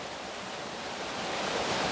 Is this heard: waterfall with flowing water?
yes